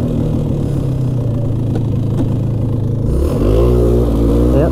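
A 2000 Polaris Xplorer 400 4x4 ATV engine shifted into high range, droning steadily at close range before climbing sharply in pitch and loudness as it accelerates near the end.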